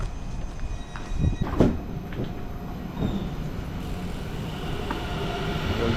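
Moving train interior with a continuous rolling rumble, scattered clunks and rattles, and a faint high squeal from the wheels, steady throughout.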